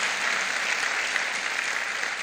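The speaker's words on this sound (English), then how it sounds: "Please give them another round of applause" An audience gives a sustained round of applause for the founders, dense and even clapping from a large crowd that carries on steadily throughout, with no voices over it.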